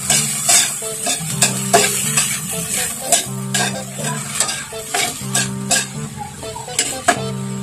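Kangkong leaves boil in a pot, with a faint sizzle under repeated scrapes and clinks of a utensil stirring against the metal. The stirring sounds come close, in uneven strokes.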